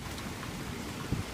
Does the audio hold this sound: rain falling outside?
yes